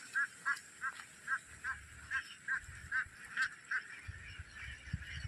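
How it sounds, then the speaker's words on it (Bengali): Ducks on floodwater in a village setting, a steady series of about a dozen evenly spaced nasal calls, moderately near, with faint low background rumble and no talk. "কত হাঁস।"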